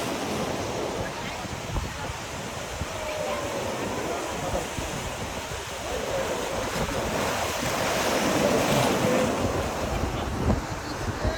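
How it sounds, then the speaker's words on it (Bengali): Rough, churning sea waves surging and crashing onto the shore at a river mouth, a loud continuous roar with heavy wind buffeting the microphone, and people talking faintly underneath. "মানে এত ঢেউ থাকা যাচ্ছে না"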